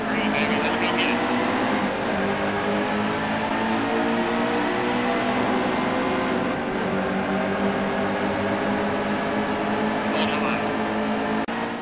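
In NASCAR Heat 2, a pack of race car engines drones and revs loudly and continuously at the race start, with a voice talking over the roar.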